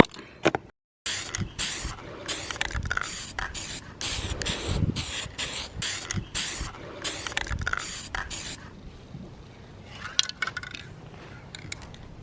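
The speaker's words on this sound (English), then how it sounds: "Now I'm going in with the gold paint." Gold spray paint hissing from a can in repeated short bursts, near and fairly loud, with faint clicks and handling noises between sprays.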